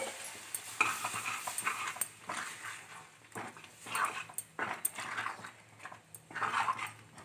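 Tomato, dal and spinach paste for palak sambar frying and being stirred in a pan, with soft sizzling and scraping bursts coming in uneven waves, fairly close and moderately loud, and no talking.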